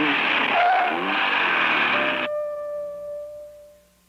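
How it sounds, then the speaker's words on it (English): An Oldsmobile with a Rocket engine roars loudly and steadily for about two seconds, then cuts off abruptly and leaves a few faint lingering tones. "To take the wheel of a rocket Oldsmobile with the rocket engine and whirl away."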